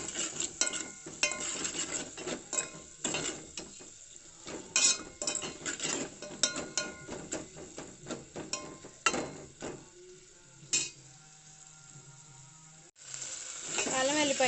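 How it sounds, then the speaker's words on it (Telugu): Chopped onions with salt and turmeric frying in a pan, stirred often: crackling sizzle broken by repeated metal spoon scrapes and clanks against the pan, close and uneven, without speech. "తగినంత ఉప్పు పసుపు అయితే వేసుకొని బాగా కలుపుకుంటా. ఉప్పు వేయడం వల్ల ఆనియన్స్ త్వరగా మగ్గుతాయండి."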